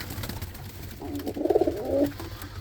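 Roller pigeons cooing in a loft: a soft, low, rhythmic burst of throaty coos swelling in the middle for about a second, close by over quiet background rustle.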